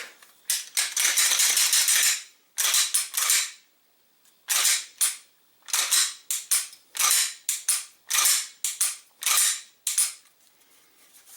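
A handgun's trigger and action are worked repeatedly after oiling, giving sharp, close mechanical clicks and snaps in quick bursts separated by short pauses, with no talking.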